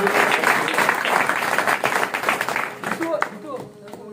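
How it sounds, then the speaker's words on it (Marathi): A crowd at a devotional bhajan performance claps and applauds, loud and close, the clapping thinning out toward the end with some voices mixed in. "गोविंद भाऊ आहे, त्याच्या टाळ्या वाजवूया"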